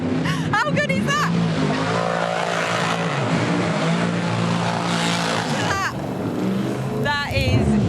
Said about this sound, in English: we're lucky to be standing here right at the line to see these burnouts and the celebrations that are happening